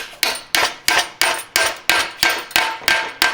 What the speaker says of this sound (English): Notice I'm using like a flat face hammer.